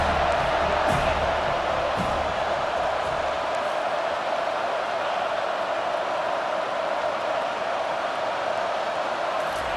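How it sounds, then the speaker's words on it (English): A steady, dense roar from a stadium crowd cheering for the defense on third down in College Football 25, loud and sustained throughout with a few brief thumps early on. "Decibels rising as the crowd gets behind this defense on third down."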